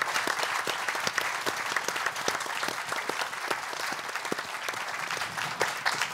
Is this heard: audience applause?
yes